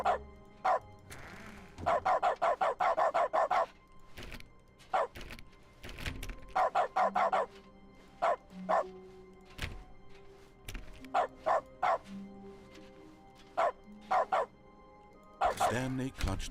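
Repeated dog barks from the dog mode of the video game The Stanley Parable, arriving in quick bursts and clusters with short gaps, fairly loud over steady game music and a low background hum.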